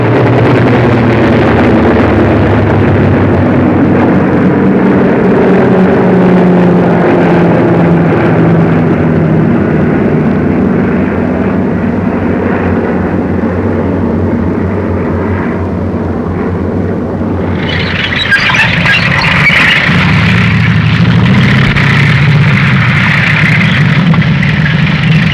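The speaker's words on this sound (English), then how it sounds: "Tank convoy heads for the Tunisian front." Tank engines from a wartime convoy heading for the Tunisian front in 1943, a loud continuous mechanical rumble and drone that holds steady, then shifts to a harsher, higher roar near the end, with no talk.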